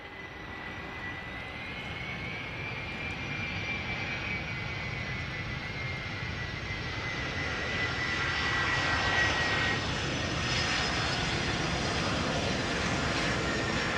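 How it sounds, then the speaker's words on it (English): An Airbus A300-600 freighter jet, 32 years old, arriving at Amsterdam Schiphol: a steady, loud broadband engine roar with a whining tone, swelling slightly as it passes near and holding strong to the end. "This Airbus A300-600 freighter."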